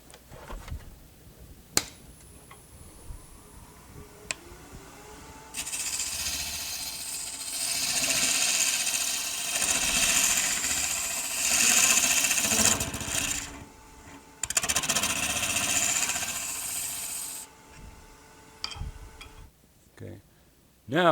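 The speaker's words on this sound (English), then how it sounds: "This time we're going to use the scraper." A scraper cuts wood on a spinning lathe with a loud, hissing, rough scrape. The cut runs for several seconds in uneven bursts, then breaks off, with quieter clicks and handling noise before and after.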